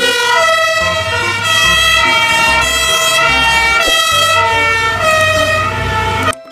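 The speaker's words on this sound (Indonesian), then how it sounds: "selanjutnya ada mobil truk tangga pemadam kebakaran" A toy fire engine ladder truck siren blares loud and close, a repeating electronic wail alternating high and low tones with a throbbing pulse, playing on its own for several seconds before cutting off.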